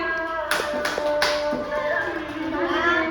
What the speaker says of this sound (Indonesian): Tepukannya.